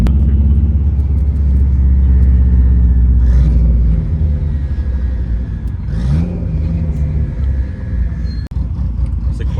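A BMW M4 engine revs among other cars at a busy car meet, a loud, steady rumble with rising pitch sweeps partway through, then settling to a lower idle with a brief sharp blip near the end.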